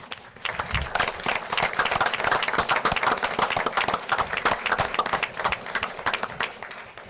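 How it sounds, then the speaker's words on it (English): A room full of people at a township council meeting applauds steadily for Matt Caesar, dense clapping sustained throughout at a fairly close, even level. "Let's have a round of applause for Matt Caesar."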